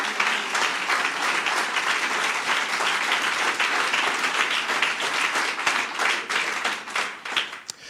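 Congregation applauding in a church, sustained loud clapping from many hands that continues evenly for several seconds before tapering slightly at the end.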